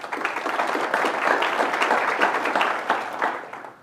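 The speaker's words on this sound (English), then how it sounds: "a deserved round of applause to your force for doing its part in cleaning up this city" An audience at a city address applauds the police force, a crowd's clapping swelling and holding steady for a few seconds before tapering off at the end.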